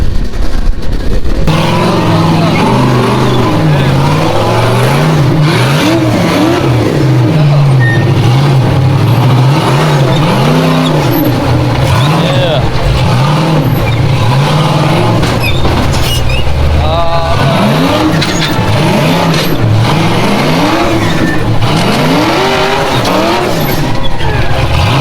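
Off-road race vehicles at King of Hammers roar loudly and continuously, engines revving up and down in repeated surging waves as they pass close by, with tire and gravel noise mixed in.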